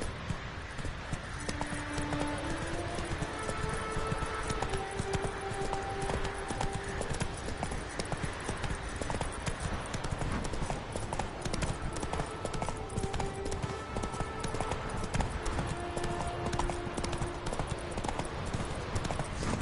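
A horse gallops in The Witcher 3 video game, hooves clip-clopping in a fast, continuous rhythm over game music, steady and close for the whole stretch.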